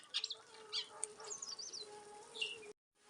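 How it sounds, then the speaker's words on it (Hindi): Small birds chirping in a mountain village in Uttarakhand, where a house sparrow is pecking at leftover jaggery. Bright, scattered tweets come and go for a few seconds, then the sound cuts off abruptly. "देखो इसको खा रही चिड़िया गौरैया"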